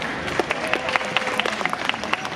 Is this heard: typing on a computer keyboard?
no